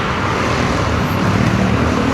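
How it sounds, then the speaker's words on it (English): Steady broadband hum of Bangkok road traffic on a weekday morning, a dense continuous wash of car and motor noise at moderate distance with no single vehicle standing out and no voices. "Bangkok traffic doesn't follow any rhyme or reason at all."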